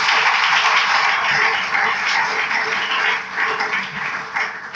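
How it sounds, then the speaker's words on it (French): A church congregation applauds and cheers to acclaim God, a dense, loud wash of clapping and voices that fills the space and holds steady before easing slightly toward the end. "Acclamons très fort notre Dieu"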